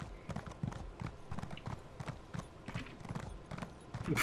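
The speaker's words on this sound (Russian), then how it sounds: "Садись на лошадь." Horse hooves clip-clop in steady rhythm in The Elder Scrolls Online, a close, moderately quiet trot with a faint whinny-like lift near the end and no talk.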